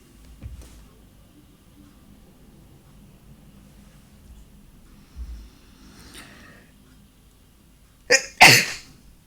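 A single sharp, loud sneeze bursts out close to the microphone near the end, following a quiet stretch with only faint breathing and small rustles.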